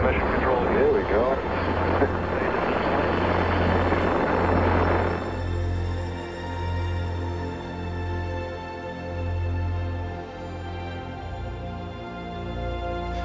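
The Saturn V rocket lifting off for the Apollo 13 launch sends out a deep, sustained roar that is dense and loud at first, then settles into a lower, wavering rumble with a voice speaking over it.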